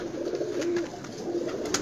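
Pigeons cooing close by in a low, rolling, continuous murmur, several birds overlapping without pause.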